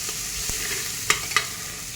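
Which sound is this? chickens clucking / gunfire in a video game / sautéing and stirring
sautéing and stirring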